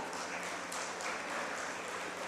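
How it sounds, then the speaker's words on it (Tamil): An audience at a Tamil Independence Day debate show (pattimandram) in Pollachi claps, the applause dense and steady with no talk. "ஒரு உற்சாகமான கைத்தட்டல் கொடுத்துடலாம்"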